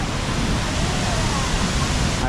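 The twin waterfalls of Itapecuru in Chapada das Mesas, Maranhão, near an old hydroelectric plant, make a steady, dense roar of falling water, loud and continuous with no voices.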